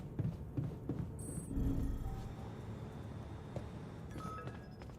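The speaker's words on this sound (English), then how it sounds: "There's a phone call." A telephone rings in the video game The Alters, a short bell-like ring standing out over busy game ambience and music, with no talk over it.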